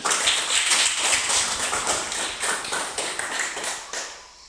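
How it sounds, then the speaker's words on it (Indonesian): Schoolchildren clapping together in a primary-school Catholic religion class, a quick rhythmic patter of many small hands, close and fairly loud, gradually tapering off at the end. "mari kita memberi tepuk tangan"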